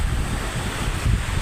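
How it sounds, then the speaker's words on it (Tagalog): Big sea waves surge onto a beach in rough weather, a steady low roar of surf mixed with wind buffeting the microphone throughout. "Ang lalaki pa rin ng alon, no?"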